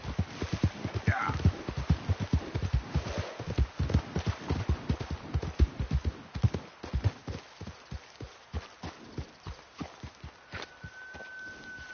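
Steady clip-clopping horse hooves in Red Dead Redemption 2, a quick regular rhythm of sharp knocks that runs throughout, with a voice speaking briefly over it and a thin tone near the end.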